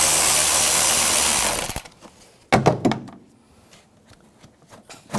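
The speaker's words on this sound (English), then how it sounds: "Loosen up that worm clamp" A worm-drive hose clamp being loosened on the intake snorkel of a 2006-2010 Hummer H3 3.7L: a burst of loud ratcheting, then sharp tool clicks and clunks with quiet gaps between.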